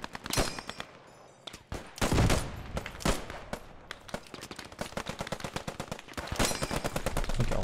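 Gunfire in the World War II game Post Scriptum, with an M1 Garand among the weapons: sharp, loud shots crack in quick irregular bursts and overlapping volleys, some near and some farther off, with no talk.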